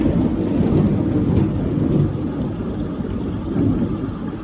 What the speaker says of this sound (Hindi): तो बादल के कड़कने की आवाज़ थी